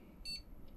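A short high electronic beep from a gaming PC starting up after troubleshooting of green vertical line artefacts on the display, a single brief tone with a faint second blip, quiet over low room hum.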